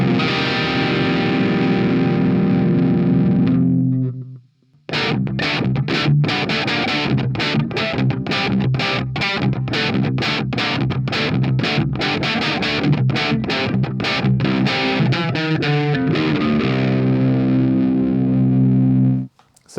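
High-gain distortion pedal clipped by 1N4148 signaling diodes drives an electric guitar into thick, saturated sustained chords, broken by a brief gap and then fast choppy strummed and muted hits before ringing out again.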